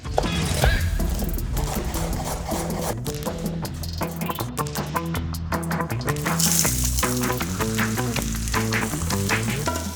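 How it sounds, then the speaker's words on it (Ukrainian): Chicken fillet sizzles and crackles steadily in a hot pan, with occasional rattling and clinking of cookware throughout. "Обсмажуємо до готовності філе фермерської курки."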